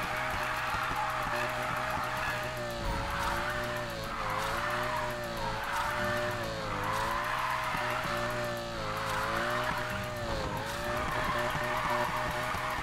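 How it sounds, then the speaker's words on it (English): A car drifts in the Need for Speed Payback racing game, its tires screeching in long wavering squeals over a steady engine roar, loud and continuous. "This is what drifting is about."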